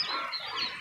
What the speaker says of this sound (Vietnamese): Còn đây là đàn gà, đàn vịt của nhà mình.